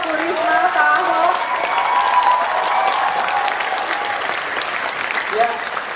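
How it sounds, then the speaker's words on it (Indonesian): Audience applause for Pak Kuntoro, Bu Risma and Pak Ahok at a public question-and-answer event with young intellectuals, sustained clapping from a crowd with voices mixed in. "sama tepuk tangannya untuk Pak Kuntoro, Bu Risma, Pak Ahok"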